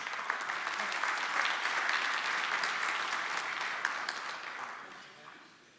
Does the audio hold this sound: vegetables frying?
no